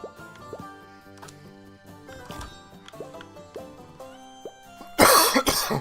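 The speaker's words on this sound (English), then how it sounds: "you probably hear me coughing a lot" One sharp, loud cough bursts out near the end, following a stretch of quiet background music with tonal notes and soft drips from the Paperklay game demo.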